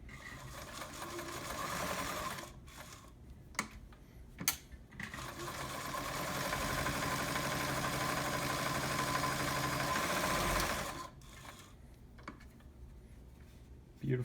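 An Omega Ultra 2000 sewing machine runs a zigzag stitch with a steady close mechanical whir and rapid needle rhythm, stopping and restarting in several bursts with brief quiet gaps and small clicks.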